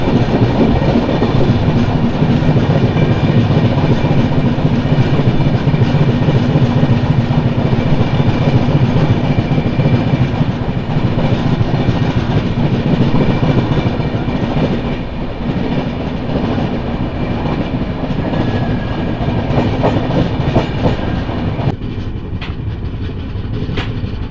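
The Tirumala Express passenger train runs on the rails near Srikalahasti station, a loud, continuous rumble with rhythmic wheel clatter that eases slightly partway through, and no voices.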